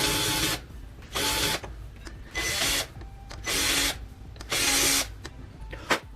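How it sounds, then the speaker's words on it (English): A countersinking bit in a drill polishes bare metal in five even, whirring bursts about a second apart, each a loud, bright grind followed by a short pause. "this is a countersinking bit, or some people use it as like a deburring tool for deburring holes"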